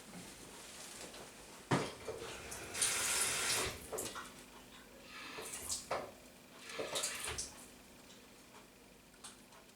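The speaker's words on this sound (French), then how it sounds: "Je vais leur mettre un peu d'eau." Water poured into a plastic cockroach breeding box, a few faint, close splashes and trickles separated by soft knocks and handling noises.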